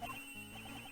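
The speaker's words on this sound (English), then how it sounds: "her cell phone." A cell phone ringing in the Ace Attorney Investigations 2 video game sounds as a faint, short electronic ringtone with quick repeating tones over quiet game background.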